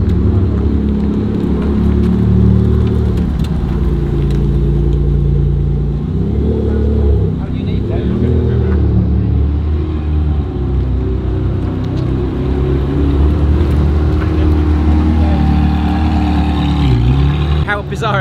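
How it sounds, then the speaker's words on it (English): A Maserati MC20 sports car pulls up and parks, its engine droning steadily and loud nearby with a few rises in revs and a low rumble underneath, while people talk over it. "behind us we've got an MC20 just turning up"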